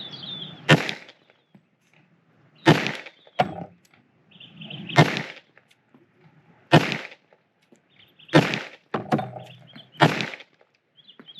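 An H&K USP Tactical handgun fires six or seven single rounds, each a sharp, loud crack with a brief tail, spaced about one to two seconds apart with quiet between them.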